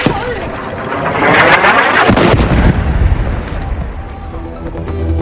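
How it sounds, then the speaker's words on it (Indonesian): A loud, rumbling explosion booms and rolls on in Deir al-Balah, central Gaza, followed by lingering debris noise and a noisy, chaotic aftermath. "Sebuah ledakan terjadi di Gaza Tengah"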